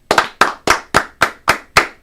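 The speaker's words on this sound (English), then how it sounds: "7 claps" Seven sharp hand claps ring out alone in an even, steady rhythm, close and loud.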